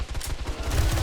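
Continuous automatic gunfire in 7 Days to Die, a quick, punchy volley of close shots repeating steadily throughout, heard alone without voices.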